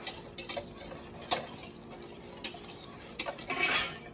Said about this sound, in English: Whisk that egg and the sugar.